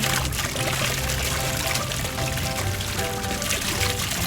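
Water sprays onto a fire in a firefighter video game as a loud, continuous rushing hiss that stays steady throughout.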